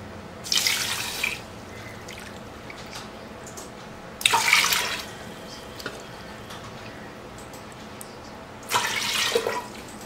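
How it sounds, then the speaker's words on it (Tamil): Water poured into a pot while cooking samai (little millet) pongal, three separate splashing pours, each about a second long, with quiet pauses between them and no talk. "1 கப்பு சாமைக்கு 3 கப்பு தண்ணீர் வைக்கணும்."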